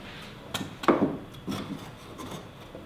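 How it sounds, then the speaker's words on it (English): A compound miter saw cuts small cedar pieces in a few short, rasping bursts close by, with quiet gaps between the cuts. "to cut some of the smaller pieces, I'm using my compound miter saw"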